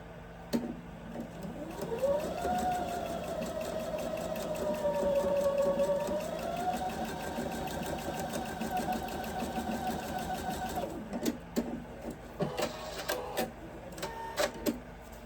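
A domestic sewing machine stitches through quilting fabric over pins, running as a steady whirring hum for about ten seconds before stopping, followed by several short bursts of stitching and clicks.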